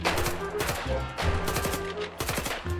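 Rapid pistol gunfire in the Roblox game Hellmet, a burst of loud, sharp shots fired in quick succession with little pause between them.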